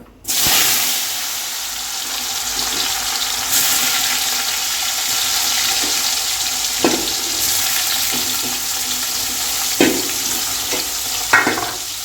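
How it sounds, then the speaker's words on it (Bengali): Banana slices frying in hot oil make a loud, continuous hiss and sizzle that starts abruptly. Occasional scraping and stirring knocks sound close by. "কলাগুলো ভাজা করবো তেল দিয়ে দিয়েছি"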